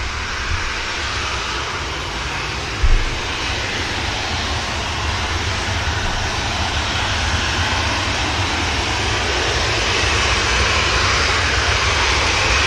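Airliner jet engines roar steadily at Manchester Airport as a British Airways shuttle and other aircraft push back and wait to taxi, a loud, unbroken broadband rumble with no voices.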